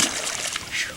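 A released smallmouth bass splashes back into the water, a brief close, noisy splash and slosh lasting about a second.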